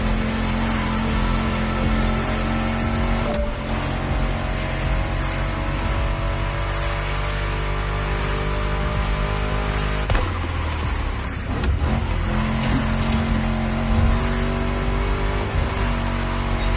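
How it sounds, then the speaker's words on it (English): Mustang GT muscle car engine in The Crew Motorfest, a loud steady revving drone with shifting pitch and a brief dip partway through, heard over a thick layer of game music. "Meshes well with the sound of the engines, you feel me?"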